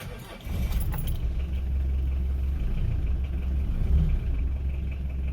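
A 1988 Mitsubishi Pajero diesel engine starts after a brief crank and settles into a steady, close, low idling rumble.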